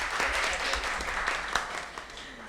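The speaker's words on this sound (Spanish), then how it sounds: "Un aplauso para ellos." An audience at a public forum gives students a steady round of applause, with dense, continuous clapping filling the room at an even level throughout.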